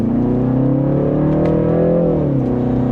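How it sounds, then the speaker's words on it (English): A 2026 BMW 330i four-cylinder in sport mode accelerates gently, its engine drone rising steadily in pitch and then easing back, loud and close throughout, with no talking. "So let's put it into sport mode, where we do have a few changes there, and then we can give it a small acceleration to get up to speed"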